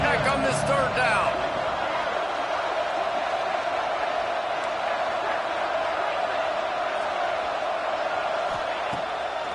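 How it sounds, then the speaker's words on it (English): A football stadium crowd roars steadily during a Texas Tech third down, a dense, continuous wall of cheering with a broadcast announcer speaking over it. "The crowd electric trying to help Tech on this third down."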